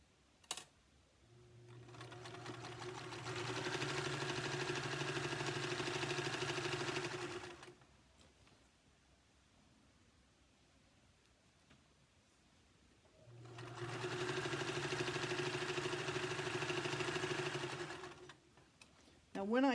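Two long bursts of a sewing machine stitching ribbon onto a fabric gift bag, a steady whirring hum that starts, runs several seconds, stops during a quiet pause, then runs again, close and clear.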